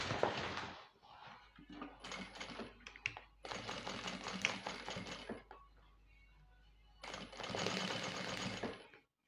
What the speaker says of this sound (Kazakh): Осылай соңына дейін тігеміз.